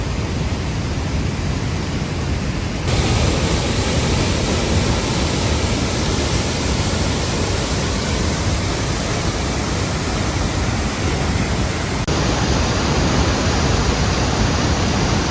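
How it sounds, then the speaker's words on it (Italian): Roaring Cascata Civetta waterfall in the Veneto, a dense, steady rush of falling water that fills the whole clip, loud and close with no voices over it. "il suono della natura e della cascata"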